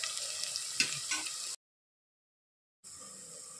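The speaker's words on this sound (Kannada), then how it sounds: "ಹಾಕಿ ಈರುಳ್ಳಿ ಮಿಕ್ಸ್ ಮಾಡಿ ಫ್ರೈ ಮಾಡ್ಕೊಳ್ತೀನಿ." Onion with crushed ginger and garlic frying in a pan for tomato rice, a soft steady sizzle with a couple of stirring scrapes, cut off by a silent gap before the faint frying resumes.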